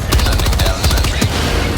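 A sentry gun fires steady, rapid automatic bursts in a video game battle against swarms of bugs on the planet Erata Prime, loud and continuous amid dense battle noise.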